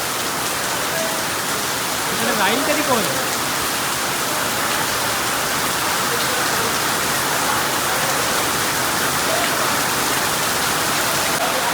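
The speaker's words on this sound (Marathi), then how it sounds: "उतरताना पाऊस आलाय भयंकर" Heavy rain pours in a dense, constant hiss on the descent from Marleshwar in the Sahyadri hills, with a few brief spoken words partly buried beneath it.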